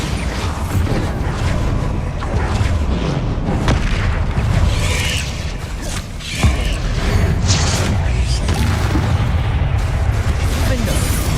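A Bombarda exploding spell in the Hogwarts Legacy video game lands among dense, loud combat noise, with heavy booms, creaks and mechanical clatter running throughout and a brief dip partway through.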